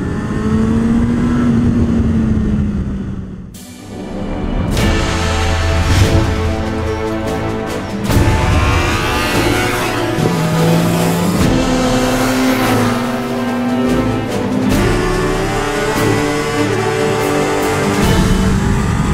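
Motorcycle lapping a race track, engine revving up and down through gears in loud, sustained passes, with rising and falling pitch as the rider accelerates and brakes.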